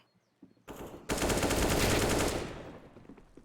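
AK rifle fire in a Counter-Strike match on the Inferno map, a dense burst of rapid loud gunshots that fuses into a roaring volley after a couple of opening shots, then trails off.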